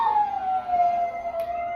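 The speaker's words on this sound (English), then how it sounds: "my dog's gonna start howling" A dog howls in a long, slowly falling wail, answering a passing fire truck siren, with a brief higher note near the end; nearby and fairly loud, with no talking.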